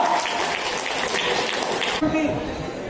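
Audience applause at a public ceremony in Nandyal, a dense steady patter of many hands clapping for about two seconds before it thins out, with voices faintly mixed in.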